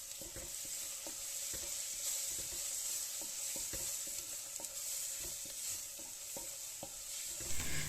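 Spice powders being sautéed in a pan for Kerala-style mutton curry, a soft continuous sizzle with repeated scraping stirs of a spoon at an uneven rhythm, close but fairly quiet, with no talk.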